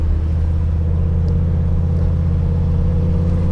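A restored and modified 1977 early Ford Bronco on the road, its engine giving a loud, steady, low rumble from inside the cab, with no change in pace.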